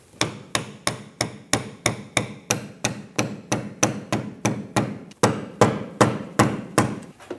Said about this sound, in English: Now I'm using a screwdriver and this mallet again to tap it in.